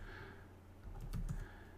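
Quiet keystrokes on a computer keyboard as a command is typed, a short cluster of light taps toward the middle over a low steady background hum.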